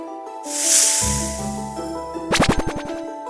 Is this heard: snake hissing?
yes